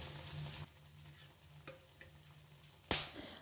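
A bay leaf and a piece of cinnamon dropped into hot oil in a kadhai give a soft, steady sizzle that fades after a moment, with faint taps near the middle and a sharp clank followed by renewed frying near the end.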